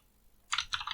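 Quick burst of typing on a computer keyboard, a few close, crisp key clicks following a quiet lull.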